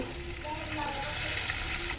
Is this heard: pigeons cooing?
no